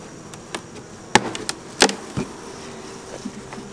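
Honey bees buzzing around an open beehive during a hive inspection, a close, faint buzz under sharp knocks and clacks of wooden boxes and frames.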